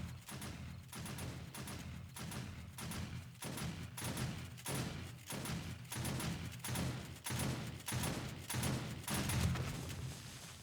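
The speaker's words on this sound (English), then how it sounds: "That shotgun turret couldn't hit him" Repeated heavy blasts from a shotgun turret in 7 Days to Die, firing in a fast, even rhythm of roughly one shot per second, fairly distant and muffled, with no talk.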